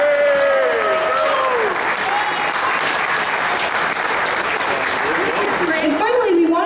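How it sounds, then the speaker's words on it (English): Outdoor festival crowd applauding volunteers at an Irish music festival, steady loud clapping throughout with cheering and voices mixed in, a few whistles rising above the applause. "So let's give all the volunteers a round of applause."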